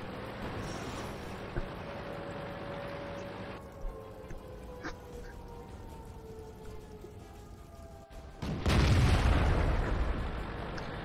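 In World of Tanks, a loud cannon blast and explosion erupt late in the span, a heavy boom with rumbling tail after a quieter stretch of engine hum and faint distant pops.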